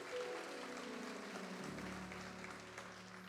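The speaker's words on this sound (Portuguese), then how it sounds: "Você pode aplaudir o Senhor, por favor?" A church congregation claps together in a sustained burst of applause during a worship service, with sustained organ-like tones ringing underneath.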